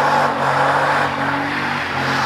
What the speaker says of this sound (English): Oh, those tires sound pissed off.